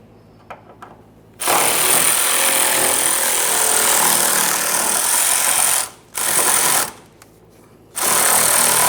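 A power tool spins out a 10mm mounting bolt holding a brake hose bracket on the driver's side frame of a 2004-2008 Ford F-150, loud sustained whirring bursts broken by two short pauses.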